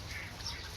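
A serati duck, a local duck crossed with a muscovy drake, gives a faint, brief quack or two against soft background noise at a distance.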